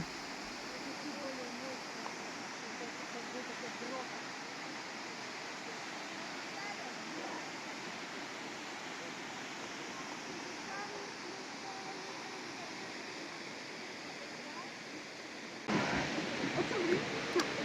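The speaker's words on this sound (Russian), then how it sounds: "Просто слушать шум воды и наслаждаться гармонией природы." Constant roar of rushing water from a waterfall near Mersin, Turkey, broad and steady throughout, growing louder and closer at the very end.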